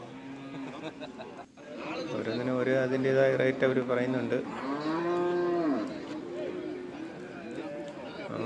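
Large cows at a cattle market let out long, loud, drawn-out moos close by, one after another, while someone talks about prices nearby.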